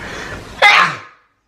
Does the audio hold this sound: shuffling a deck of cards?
no